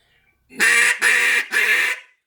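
A duck call blown to imitate duck quacks gives three loud, raspy quacks in quick even succession, each about half a second long, alone and close.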